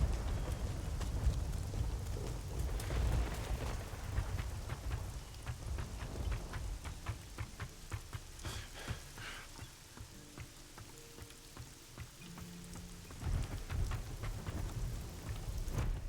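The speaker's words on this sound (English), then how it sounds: "God, I'm just thinking about how warm this rain would be." Heavy rain with rolling thunder in the video game Risen 2, a dense, steady downpour under deep rumbles that rise and fall, with no voices.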